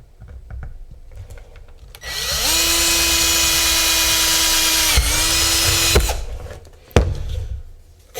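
Power drill boring a hole through the bottom of an antenna feedpoint, a loud close whine that starts after a couple of quiet seconds, holds steady for about four seconds, dips briefly, then stops with a few knocks and handling clatter.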